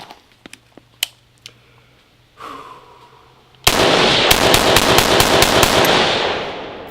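Fifteen-round Hexmag magazine run through a rifle in wet conditions: after scattered clicks and handling, a loud sustained burst of rapid gunfire erupts, sharp shots cracking close and fast for about three seconds.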